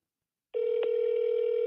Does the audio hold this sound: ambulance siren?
no